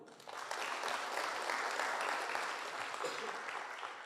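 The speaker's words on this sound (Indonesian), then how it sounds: "Ya tepuk tangan dulu dong." Audience applause during a network marketing seminar talk, a steady wash of clapping rising quickly and holding at moderate level for about four seconds.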